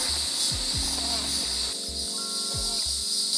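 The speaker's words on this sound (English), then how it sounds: "Listen to the cicadas." Cicadas drone in a steady high-pitched buzz around a tiny house cottage in summer, continuous and fairly loud, with low tonal bleeps and a faint hiss beneath.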